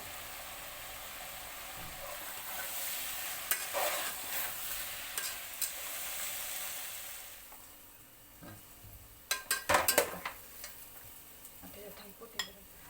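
Coriander and sesame seeds sizzle in a pan for a homemade Bhogi khendat dish, a soft continuous frying hiss broken by several sharp clinks and scrapes of stirring, fairly faint overall.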